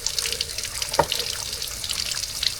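Water running steadily from a tap at a campsite at Bella Montana in Bamban, Tarlac, a continuous hissing splash close by with a small knock partway through.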